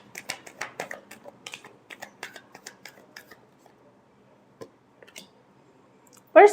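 Tarot cards being shuffled by hand, a series of soft crisp flicks and riffling taps, close and fairly quiet, thinning out toward the end with a sharper rustle at the finish.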